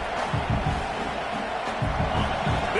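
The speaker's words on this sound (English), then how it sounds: "This crowd bringing the energy and noise early." Constant stadium crowd roar from an American football game in Madden 26, a dense steady wash of massed voices with scattered louder swells.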